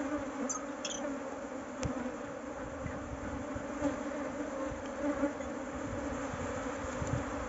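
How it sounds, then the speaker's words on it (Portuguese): A dense swarm of honeybees hums steadily around a large hive during a honey harvest, a continuous close buzz with individual bees passing near now and then. "Muita abelha, galera."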